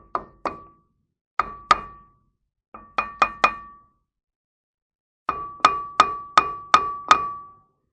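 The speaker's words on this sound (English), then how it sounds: "if you give it just a bit of a tap with a hammer or similar to loosen it off." Hammer tapping the front brake disc of a 300tdi Land Rover Defender to loosen it: sharp metallic knocks in small groups, then a quick run of six ringing taps, clear and close with silence between.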